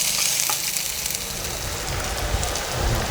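Finely chopped large onion sautéing in a hot pan for a village-hen egg drop curry, giving a steady, loud, close sizzle and crackle throughout with no voices.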